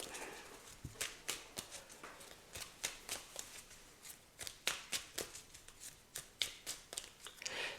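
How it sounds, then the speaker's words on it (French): Cards from a small forest-themed oracle deck being shuffled and drawn, a long run of crisp, quiet riffling snaps and flicks in an uneven rhythm, close up with no voice over it. "je vais prendre une petite carte du petit oracle de la forêt"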